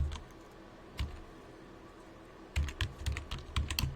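Keys tap on a computer keyboard, a single soft keystroke early on, then after a pause a quick run of close, light clicks in an otherwise quiet room.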